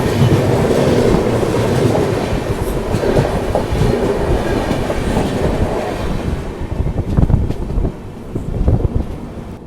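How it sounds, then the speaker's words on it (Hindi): The Kaziranga Superfast Express passes close by in Bihar, heard from aboard a moving Rajdhani train: a loud, continuous rumble with rhythmic clickety-clack of wheels over rail joints and buffeting wind noise. "यह है काजीरंगा सुपर फास्ट एक्सप्रेस।"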